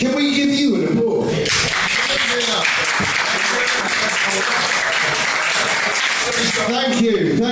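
Loud, sustained applause from a live audience at a show, with some cheering and voices mixed in, continuing steadily for several seconds.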